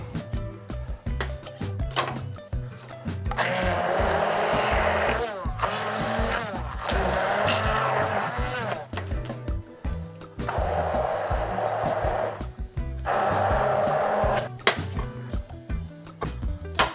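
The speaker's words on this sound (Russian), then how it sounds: "Берем блендер и начинаем мельчить наш паштет." A blender pureeing cooked chicken liver pâté with butter, whirring in several bursts of a few seconds each with brief pauses between, with clinking and handling noises in the gaps.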